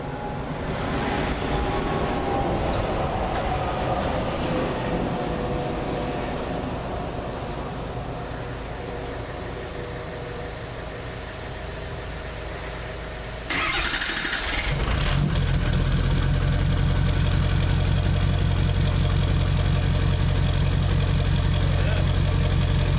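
A 2004 Ford F250 6.0 diesel with an MBRP 5-inch aftermarket exhaust idles with a steady low rumble, growing noticeably deeper and louder near the tailpipe partway through, while someone speaks over it.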